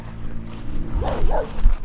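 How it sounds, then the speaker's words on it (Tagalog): A dog barks twice, loud and close, with a deep gruff tone, near a house where a small drone has fallen; a low steady background hum runs throughout. "Ay, ang tapang ho ng aso."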